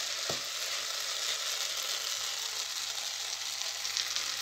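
Okra (bhindi) sabzi frying uncovered in a pan, a constant close hiss of sizzling oil with one sharp tap of a utensil near the start, otherwise even and without speech.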